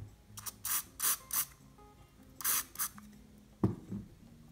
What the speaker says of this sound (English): Let me spray a little bit more.